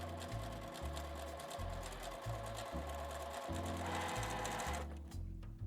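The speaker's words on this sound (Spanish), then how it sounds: "y vamos a coser" A sewing machine stitches a vinyl pouch along its zipper edge, running in steady close bursts with brief pauses between runs, then stopping near the end.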